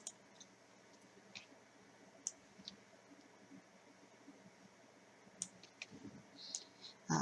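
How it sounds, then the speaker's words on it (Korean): A computer mouse clicks, including a double-click, to open File Explorer. A few sparse, crisp clicks sound faint and close against a quiet room hiss, with no voices. "더블 클릭 또는 작업 표시줄 하단에 파일 탐색기 클릭"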